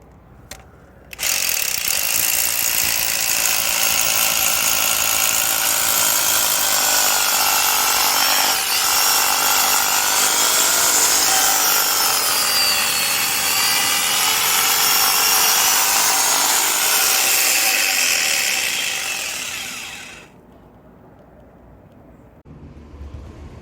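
A power drill fitted with a homemade SDS-plus bit extension starts abruptly and runs for about twenty seconds as a loud, steady whining drone, then stops, leaving near silence.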